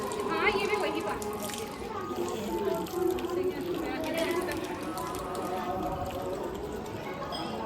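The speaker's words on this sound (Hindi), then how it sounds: "यहाँ पे निकला था पानी।" Water runs out at a Hindu temple, a steady splashing flow like a tap or spout pouring, with people talking close by over it.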